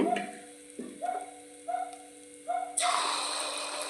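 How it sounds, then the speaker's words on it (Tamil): Batter for a quick sweet is poured into hot oil: a few short scraping, clinking knocks come first, then a loud, steady sizzle of frying takes over and holds to the end, close and without talk. "அப்படியே எண்ணெயில் இப்படி எடுத்து ஊற்றி எடுக்க வேண்டியதாங்க."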